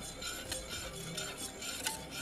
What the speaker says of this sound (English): some sour cream in. Give it a stir.